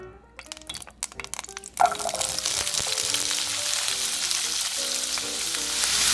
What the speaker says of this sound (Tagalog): i-fry naman po natin itong ating mga hiniwang carrot at patatas